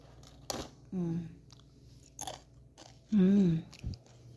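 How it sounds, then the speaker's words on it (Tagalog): Crunchy fried sambusa is bitten and chewed up close, with a few crisp crackling bites separated by pauses and brief voiced murmurs in between. "Crunchy po siya pag kinakain."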